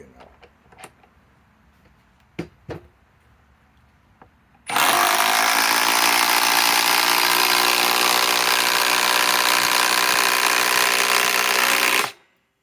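Cordless Metabo HPT impact wrench driving a pre-drilled 5-inch lag bolt, starting after a few faint clicks with a loud, continuous rapid hammering rattle lasting about seven seconds, then stopping abruptly.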